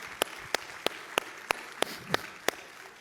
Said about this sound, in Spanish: denle un fuerte aplauso al Padre